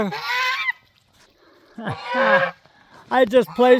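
A large goose-like domestic duck honks loudly and close by in several harsh bursts, with short gaps of quiet between calls.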